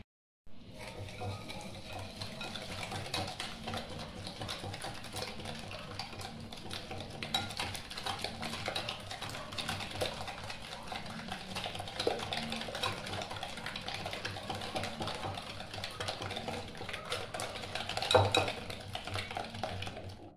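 Eggs and sugar are whisked for an economical flan-cream cake batter in a bowl, with a steady, fast, continuous clattering whir that stays close and even throughout, ending in a slightly louder flourish.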